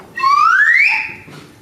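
A single short blast on a small whistle, rising in pitch and then holding steady, loud and close before fading out.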